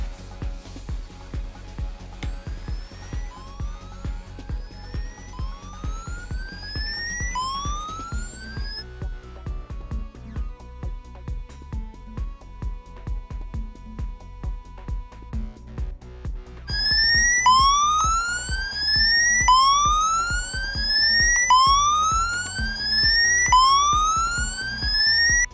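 A cable tone generator feeds a probe, giving a loud, repeating warbling test tone as rising sweeps. It falls to a quieter steady hum midway, then the loud warble returns, with no talk.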